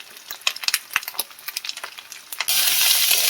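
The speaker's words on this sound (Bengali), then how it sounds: "ভালো করে মশলাটা আমি ভেজে নেবো" Spices with turmeric and chili powder frying in a pan, close scraping and stirring clatter at first, then a loud, steady sizzle takes over near the end.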